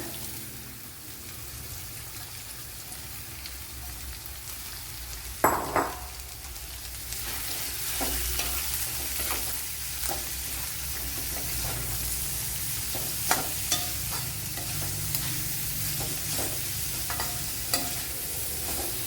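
A large onion fries in a pan for quail egg curry, a steady close sizzle with occasional scraping stirs and sharp clicks, growing busier after the onion goes in.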